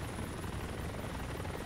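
A helicopter in the video game ArmA 2 gives a continuous, fairly close rotor-and-engine drone throughout the short stretch, with no talking over it.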